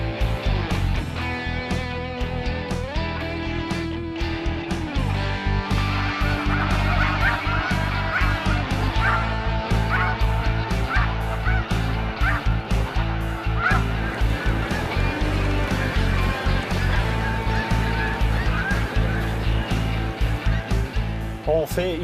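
A flock of snow geese honks continuously at close to mid range on a spring migration site at Montmagny, calls overlapping densely with a voice speaking beneath the din.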